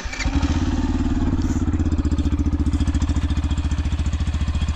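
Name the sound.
Yamaha FZ-S V4 motorcycle exhaust sound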